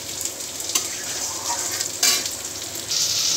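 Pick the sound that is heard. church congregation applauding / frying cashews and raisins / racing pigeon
frying cashews and raisins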